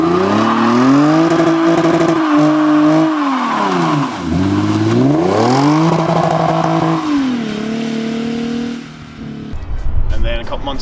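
A Lexus with its muffler deleted revs hard and close, the raspy exhaust note climbing and falling through several throttle blips before settling, then a few brief clatters at the end.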